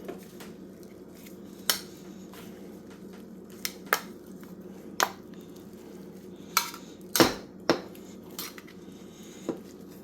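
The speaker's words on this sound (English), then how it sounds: "So you want to cream the butter." Butter for puff pastry is creamed in a bowl, giving soft squishing strokes with repeated sharp clinks of a utensil against the bowl, close and fairly quiet, with no talking.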